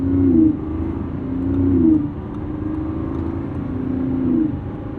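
A 2025 Lamborghini Revuelto's 1,001 hp V12 pulls hard through the gears, rising engine tones surging and dropping at each shift with the exhaust flap opening around 4,000 RPM, loud and close from inside the car, no talking.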